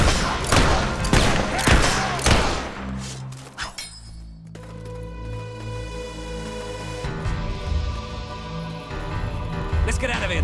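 Gunfire from the video game Fable 3: rapid bursts of shots and crashing impacts in the first few seconds, then a sustained mix of game music and ambience with voices over it.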